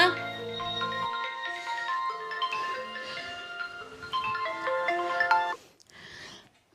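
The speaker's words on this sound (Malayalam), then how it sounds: "എന്റെ ഫോണെല്ലാം അടിക്കണേ അതൊന്ന് എടുത്തോക്ക" Mobile phone ringtone playing a bright electronic melody of steady repeated tones for about five seconds, cutting off abruptly before brief quiet shuffling.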